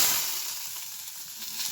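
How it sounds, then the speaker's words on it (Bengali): Whole spices tempering in hot oil for a vegetable curry give a steady, close crackling sizzle that runs the full length without a pause. "এবার ফোড়ন দেবো।"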